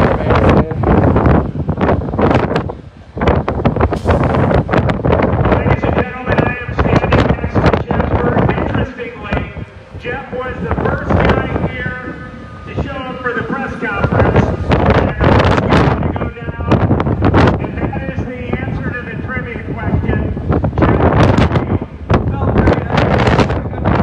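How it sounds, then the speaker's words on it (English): Strong gusting wind, about 10 to 20 mph, buffets a phone microphone held high above the ground at an open-air motorsports park, producing loud, rumbling roars throughout, with a voice speaking intermittently underneath. "It is windy. 10 to 20 mile an hour winds is what the cold weather man is saying."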